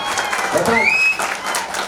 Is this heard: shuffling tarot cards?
no